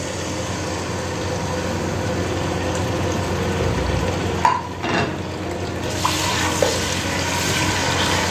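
Cubed chicken frying in hot oil in a pan, a steady broadband sizzle running throughout with a few brief stirring scrapes and bursts midway, close and fairly loud with no talk.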